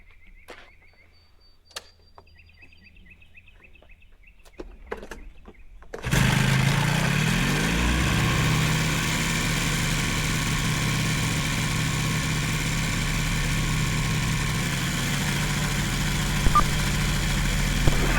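An AirBike ultralight aircraft engine starts after a few seconds of faint clicks and handling noises, then settles into a loud, steady, buzzing run that carries on to the end.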